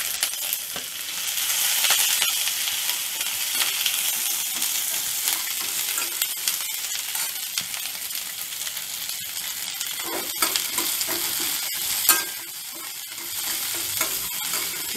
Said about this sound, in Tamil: தக்காளி தவிர எல்லாத்தையும் அதில் போட்டு ஒரு 5 நிமிஷம் வதக்கிட்டு